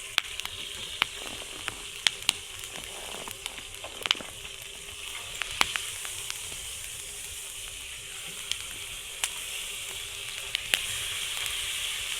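Steak sizzles over a campfire at a winter storm camp in Alaska, giving a steady faint frying hiss broken by scattered small pops and crackles.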